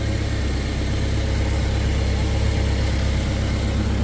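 A Mercedes 190 engine idles steadily close by, an even low rumble with a fine rhythmic pulse, loud and unchanging throughout, with no voices over it.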